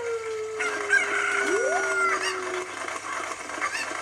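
Cucco chicken in The Legend of Zelda: Ocarina of Time, clucking and squawking in short bursts over steady game music and ambience; no voices.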